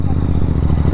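Royal Enfield Continental GT 650 twin engine pulling at low speed in sixth gear, a loud, steady low rumble with a faint clatter, close by and continuous.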